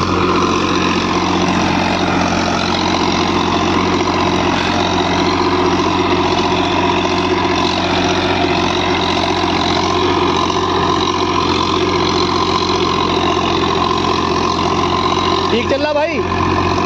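A Mahindra 265 tractor engine pulling a rotavator runs steadily and loudly with a heavy droning hum, constant throughout, with a voice briefly rising over it near the end.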